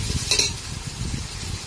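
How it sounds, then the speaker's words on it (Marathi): Chopped onion sautéing in plenty of oil in a pan for dum biryani, a steady close sizzle with stirring scrapes, no talk. "सगळं कांदा टाकून घेतलं. मग त्याला परतायचे."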